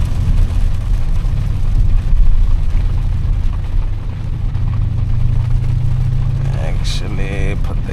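BMW M760Li V12 sedan accelerating hard on a wet road, a loud steady low engine roar heard from inside the cabin, with a person talking over it.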